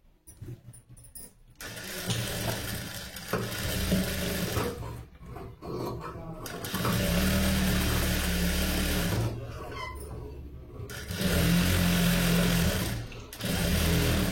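A tailoring sewing machine stitches fabric quickly in several long, steady whirring runs separated by short pauses with small clicks and handling noises.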